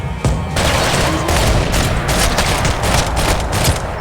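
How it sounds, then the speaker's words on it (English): Heavy gunfire in the video game Max Payne 3, a loud sustained barrage of rapid overlapping shots and booms, dense and unbroken for several seconds. "Gunfire over Hoboken."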